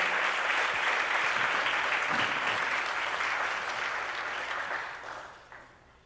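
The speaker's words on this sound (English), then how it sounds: "Please give them a big round of applause." An audience at a Board of Education meeting applauds loudly and steadily, then the clapping gradually dies away toward the end, with no talking.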